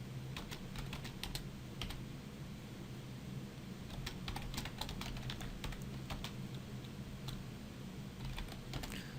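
Typing on a computer keyboard while entering shell commands, a steady run of quick key clicks with bursts and short pauses, close and fairly quiet over a faint background hum.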